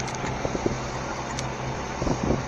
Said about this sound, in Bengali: এসি ভালোই চলছে বাসটায়, ভালো এসি আছে।